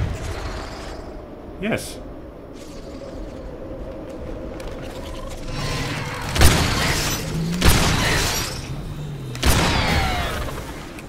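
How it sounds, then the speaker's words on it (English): Grenade explosions in the video game Crysis, three heavy booms a second or two apart after a quieter stretch of game ambience, with a brief spoken word early on. "Maybe a grenade will do something."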